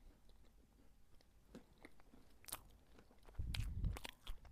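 Close, quiet crunchy bites and soft chewing of a macaron in an ASMR recording, with scattered crisp crackles building to a denser burst of chewing near the end.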